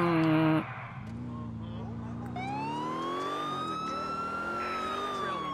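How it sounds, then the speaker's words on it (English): A police car siren in the video game GTA IV wails with a rising and falling pitch from about two seconds onward, loud and close against steady engine and traffic noise. "there's a police car coming towards me"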